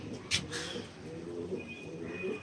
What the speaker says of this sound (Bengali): পায়রা এনেছি পায়রা দেখাচ্ছি আমি